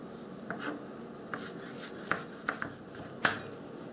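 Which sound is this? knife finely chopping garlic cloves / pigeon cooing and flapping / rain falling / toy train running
knife finely chopping garlic cloves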